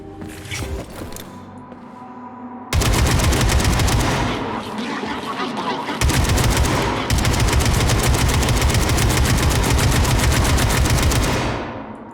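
Loud, sustained automatic gunfire from the video game Atomic Heart rips off in long continuous bursts, with a pause and a restart partway through, after a quieter opening with brief sounds.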